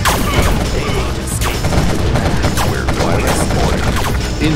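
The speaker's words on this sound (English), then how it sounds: "We're firing a mortar." Mortar fire in the Red Alert 2 strategy game, a loud, dense run of overlapping bursts and impacts that carries on without a break through the whole clip.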